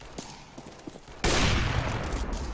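Gunfire in the video game CS:GO: a few faint distant shots, then a sudden loud, sustained burst of rapid fire that continues to the end, with no talking.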